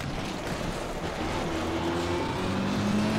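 Rally car engine in the Richard Burns Rally sim, a steady droning rev that climbs in pitch through gear changes, loud and continuous with no talking.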